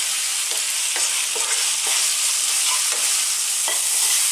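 Chicken pieces with garlic and salt sizzle steadily in a pan over medium heat, a loud continuous frying hiss broken by several faint stirring scrapes.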